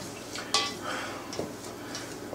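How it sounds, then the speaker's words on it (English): Spoon stirring hot stuffing for stuffed pork loin, a few clinks and scrapes against the pot over a soft background hiss, close and brief. "Now, that's hot, so I'm going to mix it with my spoon."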